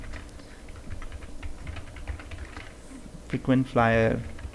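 Typing on a computer keyboard set a little away from the microphone gives soft, steady, irregular clicks over constant background noise, and a voice is heard briefly toward the end.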